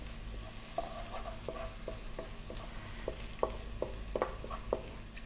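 Garlic and ginger fry in a pan with a continuous low sizzle, while a utensil stirs through it in repeated light scraping strokes at close range. No one speaks.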